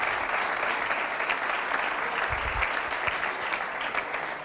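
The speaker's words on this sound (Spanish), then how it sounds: "Os pido el último aplauso para ella" Audience applause at a women-in-sport event, a dense, even round of clapping from a seated crowd sustained throughout at moderate loudness.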